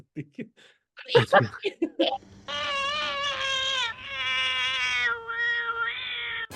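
A cat in the James Bond film Diamonds Are Forever lets out several long, drawn-out, wailing meows, close and clear, after a short stretch of people talking.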